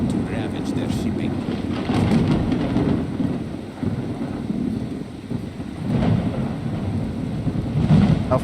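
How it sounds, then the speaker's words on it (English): A loud thunderstorm rages outside, a heavy rumbling roar of rain and wind that swells and eases in slow waves, with deeper surges of thunder rolling through at intervals. "Yeah, the storm is loud, but it's fine."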